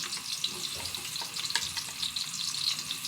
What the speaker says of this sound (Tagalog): mainit na ang ating mantika. Lagyan natin ang bawang.